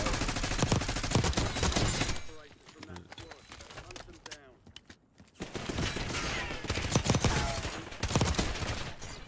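Several enemies shoot at the player in a fast-paced battle-royale shooter game, producing dense bursts of rapid gunfire that drop away briefly midway and then return at close range, with a voice talking over part of it.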